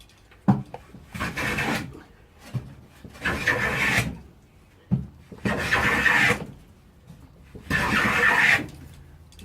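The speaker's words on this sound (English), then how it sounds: "Now I'm just planing these sides." Four long, rasping strokes of an old Miller's Falls No. 4 hand plane shaving wooden pallet sides, evenly spaced, each preceded by a light knock.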